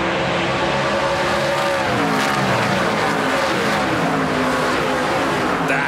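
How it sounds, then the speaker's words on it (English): NASCAR Pinty's Series race cars on a street circuit in Toronto roar past in a loud, continuous blur of engine noise, pitch rising as they accelerate out of a corner, with no talk over it. "when you hear those engines, not many RPMs out of them as they get into the corner."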